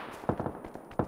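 Distant gunfire in the PUBG battle royale game: a quick run of faint sharp pops, several shots in uneven bursts, far off and quiet with no talking over it.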